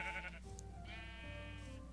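A Minecraft sheep gives a couple of wavering, nasal bleats, close and moderately loud, over a steady low background hum.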